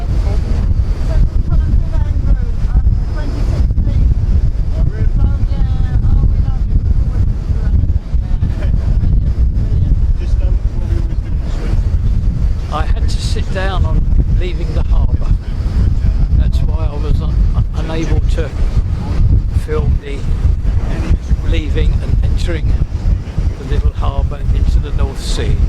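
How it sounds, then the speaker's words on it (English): A boat crosses the open North Sea with strong wind buffeting the microphone and a constant low rumble of engine and water. People talk intermittently over the noise. "Travelling on the North Sea."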